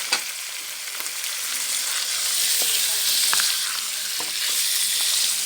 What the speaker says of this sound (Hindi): अब इसके साथ हम इसको भूनेंगे ताकि इसकी खुशबू ज़रा कम हो जाए।